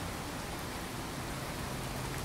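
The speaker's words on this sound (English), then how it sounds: "And it's raining." Steady rain falling in Fallout 4, a dense, even hiss of drops on surfaces that holds constant and fairly loud throughout with no talk over it.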